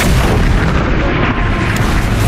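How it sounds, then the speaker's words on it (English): A lab blowing up in a World of Warcraft Legion cinematic, a loud, sustained booming explosion with a dense, rumbling roar that fills the whole short stretch. "And as his lab went up with a fireworks flare, Kraz and his kitty soared high in the air."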